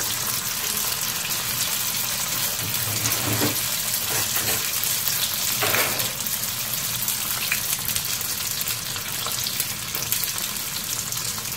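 Vietnamese spring rolls (nems) fry in hot oil over medium heat, producing an even, dense crackle and bubbling that runs unbroken throughout, with faint occasional clinks.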